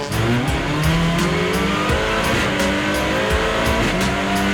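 Several touring race cars from the 2019 WTCR Touring Car World Cup roar and rev loudly together, pitches rising and overlapping as the pack accelerates close by at a race start.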